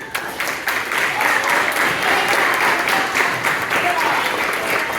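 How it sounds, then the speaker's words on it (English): Audience applause for coaches at a spring season banquet, a steady, dense wash of many hands clapping in a room, holding for several seconds with a faint voice under it. "Let's first give a round of applause for these great coaches."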